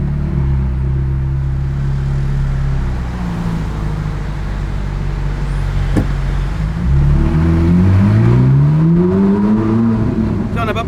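Ferrari engine revving loudly, low steady rumble rising into a climbing rev sweep toward the end, up close.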